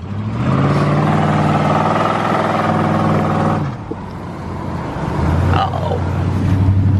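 A truck engine runs loud and close, holding a steady mid-pitched drone, then dropping to a lower idle before rising again as it pushes through snow.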